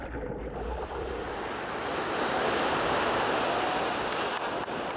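Ocean surf rolls in as a steady, broad wash of breaking waves, loud and continuous without a break, with some wind buffeting the microphone.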